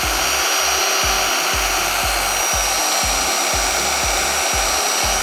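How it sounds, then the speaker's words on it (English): A random orbital sander dry-sanding car paint with 1500 and 2500 grit on a 25-year-old Peugeot 306, a loud steady whine with a regular low thumping pulse about twice a second, running alone throughout. "That's the sanding completed."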